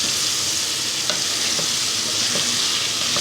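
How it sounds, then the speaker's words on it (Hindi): Bottle gourd stew fries in a pan under a dense, continuous loud sizzle, with faint stirring scrapes now and then throughout. "थोड़ा सा इसको और फ्राई कर लेते हैं"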